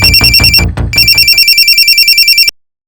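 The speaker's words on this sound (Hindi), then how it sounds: "हॉस्पिटल से फोन था सर" A telephone ringtone for an incoming call from a hospital: a loud, steady electronic ring with repeating tonal pulses, playing alone with no voices and cutting off abruptly after a couple of seconds.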